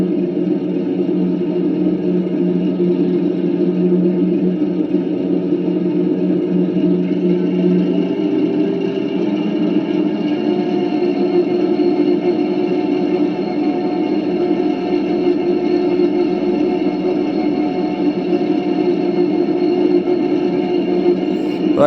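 A 5 inch gauge Class 08 shunter model locomotive with a DCC engine sound system drones steadily at close range, and its tone shifts about a third of the way through as the revs rise.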